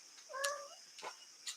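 A cat gives a clear, close meow, then a couple of shorter, fainter mews, with quiet pauses between.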